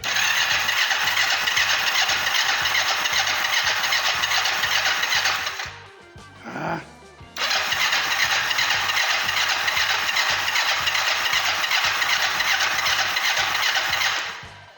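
A Kawasaki GPZ 500 cafe racer motorcycle that will not start properly, its engine revving and holding a loud, rough, steady roar, then dropping briefly to a near stall before climbing back up and running hard again.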